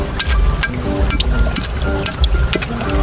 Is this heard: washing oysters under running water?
yes